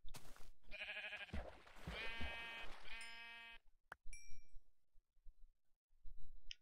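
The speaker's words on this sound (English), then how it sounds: "There's another sheep around here." Sheep in the Minecraft video game bleat several times in quick succession, loud and close, followed by a sharp click and a few faint chiming tones, with no talking over them.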